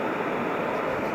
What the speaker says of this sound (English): Water is boiling.